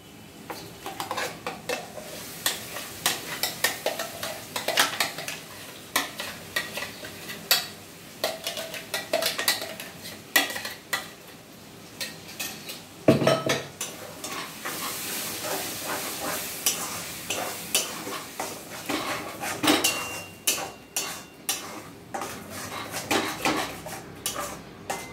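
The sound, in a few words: pointed gourd paste stirred and frying in a wok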